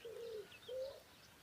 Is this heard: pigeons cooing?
yes